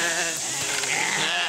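Sheep and a couple of goats bleating in a fenced farm pen, a loud, dense chorus of overlapping bleats close by with no talking.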